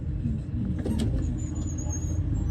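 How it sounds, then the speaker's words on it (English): Busy traffic with cars and buses circling at the U.S. Capitol traffic circles, a continuous low rumble of engines with a faint brake squeal, steady and fairly close. "it is a high traffic area, a lot of buses, in order to keep traffic moving"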